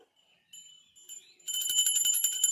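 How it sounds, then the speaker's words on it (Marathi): A hand bell rung during a bhoomi puja for building a new house, faint tones at first, then a bright rapid ringing that carries on steadily and close for the final second. "पहिला घंटी द्या घंटी घ्या घंटी माझ्याकडे"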